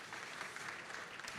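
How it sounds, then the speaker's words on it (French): Brief, faint burst of audience clapping after a conference talk, a dense patter of many hands with no voices. "Vous pouvez les applaudir"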